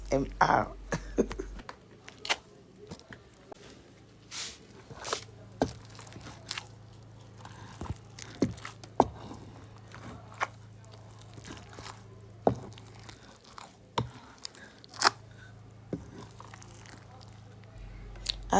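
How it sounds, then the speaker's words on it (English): Black soap ingredients pounded together by hand for an acne and dark-spot recipe, with repeated dull thuds and crunchy squishing hits in an irregular rhythm close by, and a voice speaking softly at times. "I'm just going to pound this together until I get some kind of combined consistency"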